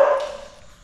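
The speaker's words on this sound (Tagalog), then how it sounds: "grabe yung kaba ko sa aso" A dog outdoors gives a single short, sharp bark close by, and it fades quickly.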